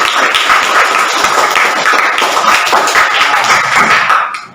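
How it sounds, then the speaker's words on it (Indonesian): Applause from a school class in a classroom, steady, dense clapping that carries on for several seconds before cutting off, loud and close. "tepuk tangan untuk kita semua"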